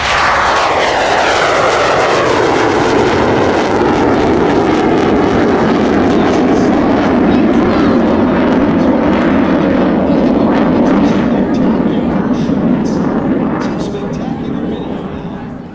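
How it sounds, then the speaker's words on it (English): A MiG-17F jet fighter taking off at night at the California Capital Air Show, its afterburner lighting with a loud, sustained roar that sweeps in pitch as the jet passes, then slowly fades, with crowd voices faintly underneath. "The MiG-17 taking off, and there's the burner."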